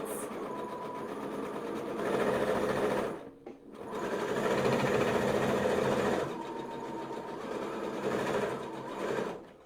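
A sewing machine stitches fabric in three fast, steady runs separated by brief pauses, close and clear with no talking.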